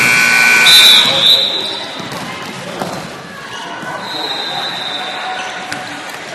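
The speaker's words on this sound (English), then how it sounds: "there's the buzzer" A long electronic buzzer sounds in a busy gym before a varsity volleyball match, holding a steady tone over crowd chatter and bouncing balls, then fades into the general noise.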